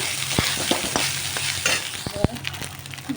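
Cooked rice is stirred while it fries in a pan: an uneven sizzle broken by repeated sharp scrapes and clatters of the spatula, close and fairly loud, with no voices.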